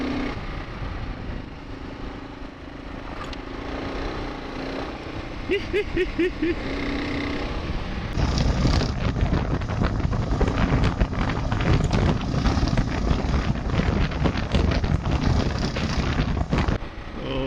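A Kawasaki KLR adventure motorcycle runs at speed on a gravel road, its steady engine drone mixed with heavy wind buffeting and crunching gravel, with a brief voice early on.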